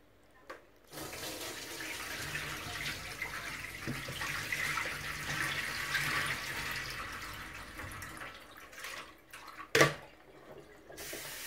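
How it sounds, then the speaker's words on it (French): Cameroonian ikok (okazi) leaves being rinsed in water, a steady close splashing and running-water wash lasting several seconds, ending with a sharp splash and drip, no talking. "On rince encore un peu."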